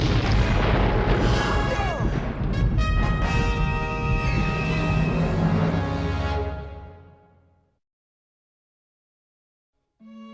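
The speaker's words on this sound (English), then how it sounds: "they looked back to see the Benbow Inn explode in flames" A large explosion blows up the Benbow Inn in flames in the Treasure Planet Read Along PC game: a loud, rumbling blast with crackling debris that fades out over several seconds, then a brief new sound at the very end.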